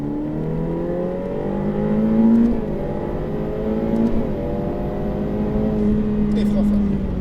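A Ferrari F8 Tributo on a race circuit, its engine note climbing steadily through the gears with brief dips at the shifts, loud and close from inside the car as a steady drone.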